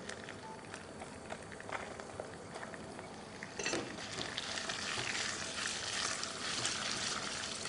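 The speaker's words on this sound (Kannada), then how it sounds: "ಇದಕ್ಕೆ ಒಂದು ಈರುಳ್ಳಿಯನ್ನು ಹಾಕ್ತೀನಿ." Onion fries in a pot at home alongside whole spices, giving a soft steady sizzle that swells into a louder, denser crackle partway through, with occasional light stirring clinks.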